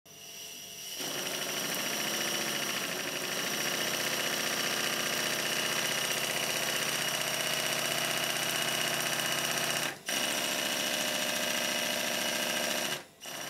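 A Stuart 1010V model steam engine runs on compressed air with a steady, fast mechanical hum and chuff that sets in after a second and holds evenly, broken by two brief dips near the end.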